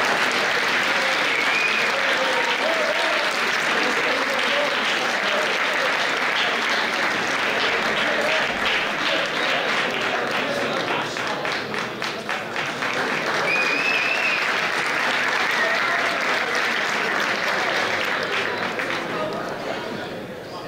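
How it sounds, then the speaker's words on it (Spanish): An audience at a university campus festival gala in Alcoi gives a prize winner long, sustained applause, loud and continuous, with some voices mixed in, swelling and dipping slightly before thinning at the end. "Un fuerte aplauso para él."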